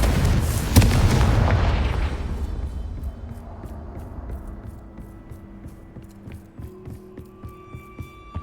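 A Confringo fire-blast spell in the Hogwarts video game bursts loudly in a heavy boom near the start, then rumbles and decays over several seconds, with faint game chimes and tones continuing underneath.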